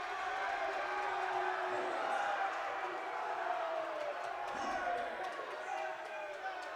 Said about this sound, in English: And the Firebird crowd is yet again fired up